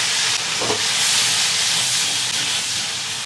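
Shrimp tails hitting hot chili oil in a wok with dried chilies, Sichuan peppercorns, star anise and onion, giving a steady loud broadband sizzle and hiss that stays strong throughout with no talking.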